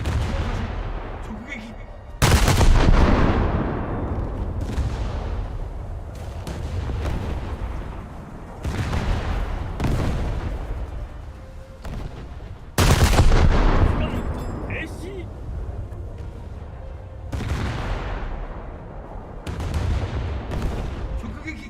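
Ship guns firing in a naval combat game, heavy booming salvos every few seconds with rumbling decays, some louder and closer than others, under occasional speech.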